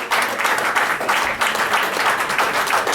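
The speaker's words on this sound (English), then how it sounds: "Final round of applause." Sustained crowd applause for Olympians at the close of an evening panel discussion about the Rio Games, dense and steady clapping filling the room at full volume for the whole stretch.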